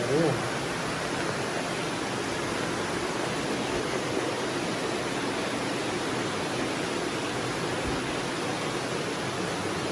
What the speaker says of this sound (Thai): เรามาถึงตัวนี้ก็จะเป็นน้ำตกแล้วครับ